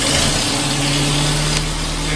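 A 1924 Bullnose Morris Cowley engine running steadily just after starting, with a low even drone and a faint high hiss, close and continuous throughout.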